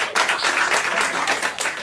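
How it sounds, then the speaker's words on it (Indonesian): An audience at an Indonesian tech podcast event applauds a speaker being introduced, a dense, steady wash of many hands clapping for nearly two seconds with no talk over it. "Boleh tepuk tangan buat Raihan"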